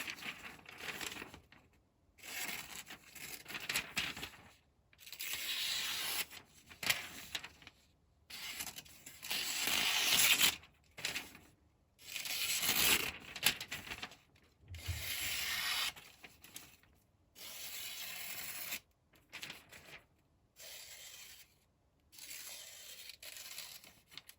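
Spyderco Para 3 Lightweight knife blade being sharpened, repeated rasping strokes across an abrasive in uneven bursts separated by short pauses, close and fairly faint, with no talking.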